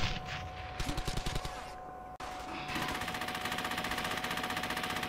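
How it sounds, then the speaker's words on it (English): Machine gun fire in a PlayStation 3 battlefield video game, loud rapid automatic bursts that pause briefly and then resume as a steady, sustained stream of shots. "There's the machine gun."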